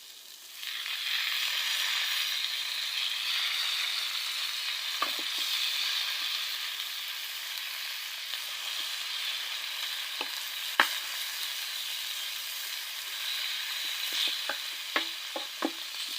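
Bean leaves frying in a pan together with potato, onion, garlic and chilies: a constant soft sizzle from start to finish, with scattered stirring clicks and scrapes later on.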